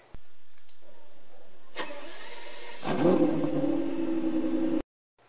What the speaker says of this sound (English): In the back of this diecast car, first when you start it up, this is what you'll hear.